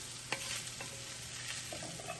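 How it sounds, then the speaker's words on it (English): Homemade hashbrowns scraped and scooped from a skillet, soft scraping and stirring over a quiet sizzle with a sharp clink near the start, low and close with no speech. "let me get these out of the pan here. Excuse me, out of the skillet."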